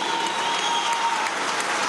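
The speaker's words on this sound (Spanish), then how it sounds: "pues un aplauso al ministro Hipólito Abreu" A large crowd at a government event applauds Minister Hipólito Abreu with loud, dense, sustained clapping that carries evenly throughout.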